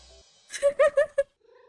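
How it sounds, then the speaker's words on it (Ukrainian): A cat in the video game Stray makes a short series of soft, rising purr-like mews, four or five close pulses, clear and alone over near silence. "О, мурчить піця."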